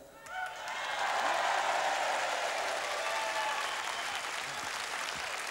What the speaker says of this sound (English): That's your applause there.